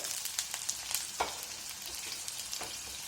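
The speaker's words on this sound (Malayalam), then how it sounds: "ഇപ്പോൾ നമ്മുടെ കടുക് പൊട്ടി കഴിയാറായിട്ട് ഇതിലേക്ക് നമുക്ക് ഉള്ളി ചേർക്കാം" Sliced onion fries in hot oil after mustard seeds, giving a steady quiet sizzle with scattered pops and occasional stirring scrapes, with no talking.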